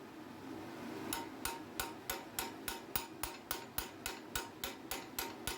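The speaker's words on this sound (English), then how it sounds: "just going to come straight in then with the hot cut" A hammer strikes a hot cut chisel into hot iron fire tongs held in a leg vise, ringing out in a steady, evenly spaced series of about fifteen sharp metallic blows over a quiet forge background.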